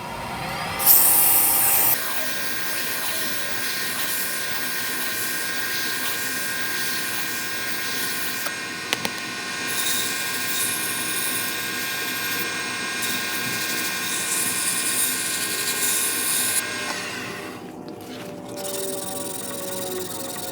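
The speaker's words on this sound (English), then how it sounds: "On a pen like this, I will probably use 320, 400, 600, and possibly 800 grit sandpaper." A turned pen spinning on a lathe while being sanded with 320 grit sandpaper: a steady whirring, rubbing drone held for most of the stretch, close and continuous, then easing off near the end, with no talking.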